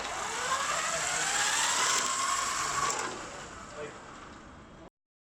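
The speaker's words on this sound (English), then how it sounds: "The robot drove forward" An FRC robot drives forward under motor power, giving a steady whining motor hum with a rising pitch sweep. It holds for about three seconds, eases off, then cuts out abruptly.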